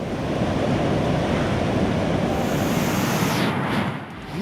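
Flooded Godavari river after heavy rain in Maharashtra, a loud, steady rushing roar of fast water with wind buffeting, continuous and close throughout before dipping slightly near the end.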